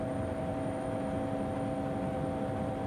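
Continuous engine drone of a helicopter in flight, heard from the cabin as an even steady hum with faint tonal whine and no voices.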